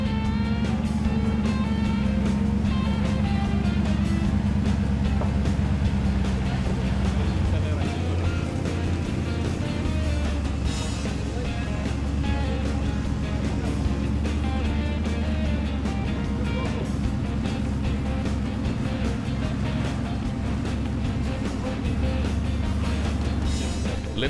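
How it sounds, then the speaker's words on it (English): Large top truck class 4x4 off-road vehicle grinding steadily over rough terrain, its engine droning loudly and continuously with rising and falling revs throughout, with no one speaking. "Niku and Jacqueline Fourie making their way in this impressive top truck class vehicle"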